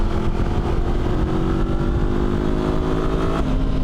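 A Honda lightweight adventure motorcycle engine pulls hard under acceleration, a loud continuous drone rising steadily in pitch and then shifting near the end, heard from on the bike with wind noise and no talk.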